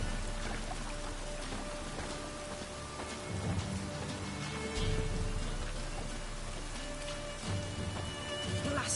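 Heavy rain pours in the city of Novigrad in the video game The Witcher 3, a dense steady hiss of drops on surfaces with a low rumbling undertone throughout, no talking.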